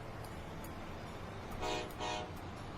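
A French Renfe high-speed train in the video game Transport Fever sounds two short horn toots over a steady background rumble of rail traffic.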